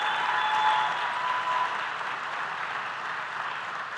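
Steady audience applause at a gala celebrating Posse scholars, dense clapping that holds even and fairly loud, then eases slightly toward the end.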